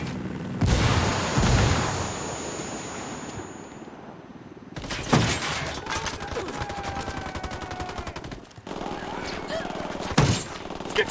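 Heavy automatic gunfire rattles through a Ghost Recon Wildlands firefight, dense sustained bursts broken by a short lull and then sharp, loud volleys, with voices calling out over the shooting.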